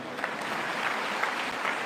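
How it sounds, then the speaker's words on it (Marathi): A crowd of women at a Raksha Bandhan gathering applauds, a continuous, moderately loud spread of many hands clapping with a few sharper claps standing out. "टाळ्या वाजवायला काय हरकत"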